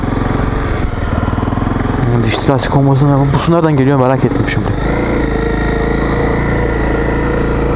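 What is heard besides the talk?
Honda CRF 250 Rally motorcycle engine riding through muddy forest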